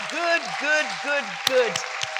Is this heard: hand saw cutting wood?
no